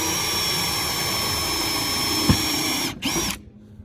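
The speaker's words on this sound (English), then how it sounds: "So I need to drill 2 closer to the middle." An electric drill bores holes in the plastic bumper of a Citroen C1 for reversing sensors, a loud steady high-pitched whine that runs nearly the whole time, then briefly stops, restarts and winds down.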